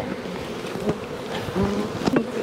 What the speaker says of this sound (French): Il y a des abeilles, du miel